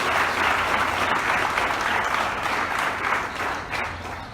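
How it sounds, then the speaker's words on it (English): An audience applauding for the president at a public ceremony, steady dense clapping from a crowd that holds at full strength and tapers slightly near the end. "Let's clap for our president."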